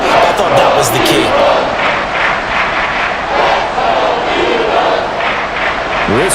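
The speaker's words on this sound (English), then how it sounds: "This crowd doing all they can" A packed NFL stadium crowd roars during a Giants vs Eagles Christmas Day game, a dense, loud wall of cheering and yelling that holds steady throughout, with a commentator's voice heard faintly over it.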